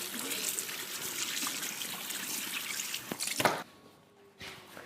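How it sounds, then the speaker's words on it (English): Tap water running into a kitchen sink during handwashing, a steady close splashing flow that stops abruptly, leaving faint drips and room noise. "I'm just going to wash my hands"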